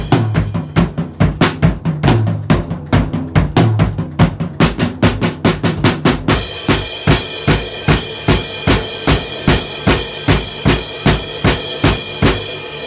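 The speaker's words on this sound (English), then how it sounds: "ending of the song, which is just simple quarter notes on the crash, kick, and snare" Drum ending from a song: a driving beat gives way to steady quarter notes struck together on crash, kick and snare, loud, even and sustained with cymbal wash.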